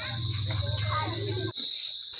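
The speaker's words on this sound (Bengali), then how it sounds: "সন্ধেবেলা রিসর্টে ফিরে এসে ঝিঝি পোকার ডাক আর জঙ্গলের নিস্তব্ধতার মধ্যে" Crickets chirp at dusk near a jungle resort in a national park, a steady high-pitched trill running throughout under a low rumbling hum.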